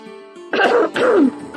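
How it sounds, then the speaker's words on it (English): Two rough, hoarse coughs close to the mic, one after another, preceded by a quiet background hum. "Sorry, I'm coughing again."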